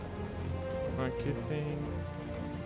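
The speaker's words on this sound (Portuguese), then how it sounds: "Tá chovendo aqui." Steady in-game rainfall in the fantasy strategy-adventure game Abalon, a dense continuous patter heard beneath someone speaking briefly in Portuguese.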